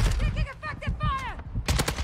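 Gunfire in the Call of Duty Warzone video game: a short cluster of sharp, loud shots near the end, after a stretch of electronic, voice-like game audio.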